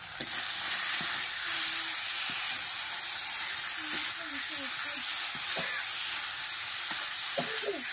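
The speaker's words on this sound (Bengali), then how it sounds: "মশলার মধ্যে মাছ দিয়ে দেব।" Rupchanda fish goes into spiced masala with bay leaves in a hot pan, giving a loud, continuous hissing sizzle throughout, with faint voices heard briefly underneath.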